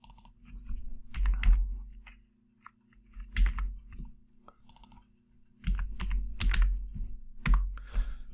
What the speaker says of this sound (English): I've created an Excel spreadsheet, and I'm going to type in those numbers.